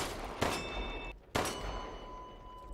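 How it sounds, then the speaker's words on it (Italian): In the video game Resident Evil Village, two gunshots strike a bell, each a sharp crack followed by a sustained metallic ringing tone that lingers and fades, moderately loud with no talk. "Può essere che devo sparare la campana."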